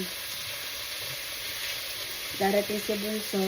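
Vegetables with meat fry in a pan with a steady, close sizzle, and a voice talks over it during the last second or so.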